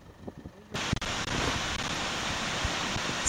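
Seljalandsfoss waterfall in Iceland roars as a dense, steady rush of falling water that starts abruptly after a quiet moment and then stays loud and constant, close to the listener.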